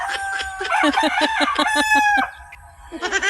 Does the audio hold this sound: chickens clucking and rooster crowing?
yes